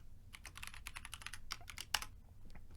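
Rapid typing on a computer keyboard while entering a password during a Fedora server setup, a quiet run of light clicking keystrokes with a couple of sharper taps, no voices over it.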